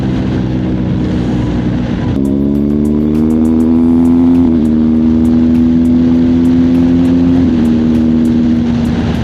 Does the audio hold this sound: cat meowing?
no